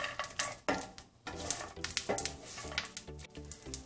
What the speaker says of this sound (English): I've been frying peanuts for 2 minutes.